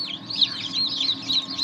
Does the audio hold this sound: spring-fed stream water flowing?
no